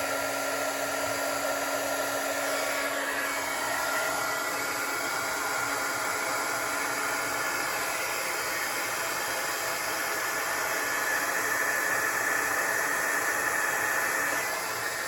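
Heat gun blowing steadily to heat-set embossing powder on a stamped card, a constant airy hiss held at moderate level throughout, with no talking.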